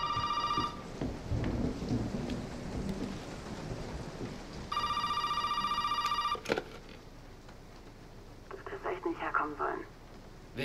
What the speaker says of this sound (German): es klingelt das Telefon auch noch.